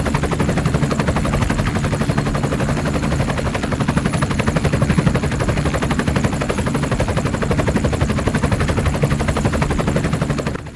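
A CH-47 Chinook twin-rotor helicopter, heavily loaded and flying over the ocean, roars loudly and steadily throughout, its rapid rotor thumping blending into a dense, constant drone with no pauses.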